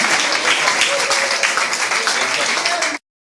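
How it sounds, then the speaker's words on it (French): A congregation applauds Sister Yasmine Pierre at a church gathering, with loud, dense, continuous clapping mixed with voices that cuts off abruptly after about three seconds. "On acclame plus fort, la sœur Yasmine Pierre"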